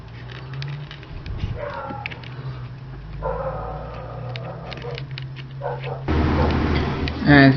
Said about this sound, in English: As you can hear, that's my dog getting in the video,